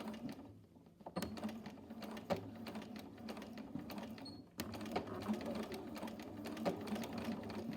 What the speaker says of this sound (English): I'm going to back tack a few times so that it is secure.